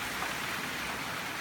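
Heavy rain falls in a steady, dense hiss with no breaks, close and fairly loud, with no voices.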